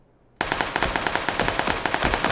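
Automatic gunfire in the video game PUBG (Battlegrounds), a sudden loud burst of rapid, evenly spaced shots that continues without a break.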